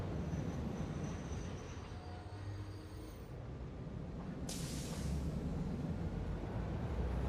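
A train rolls steadily along rails in the video game Infrastruct, a continuous rumbling of wheels with faint squeals and a brighter hiss rising near the end, with no talk over it.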